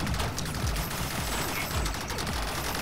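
Gunfire from a first-person shooter match in Rec Room, a busy stretch of repeated shots and bursts close by, steady and fairly loud throughout, with no talking in this stretch.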